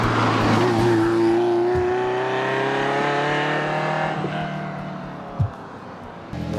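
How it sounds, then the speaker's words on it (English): A 1989 Ferrari Mondial t Coupe engine drones steadily as it drives, its pitch gliding slowly upward, then fading a little with a brief thump near the end. "One of my favorite things about it is the sound of a Ferrari."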